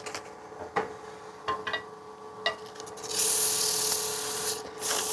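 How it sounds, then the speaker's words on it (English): Sandpaper rubbing over a wet-turned wooden bowl on the lathe, a steady close rasping hiss that swells louder in the second half, with a few brief scrapes before it settles. "let's grab our sandpaper"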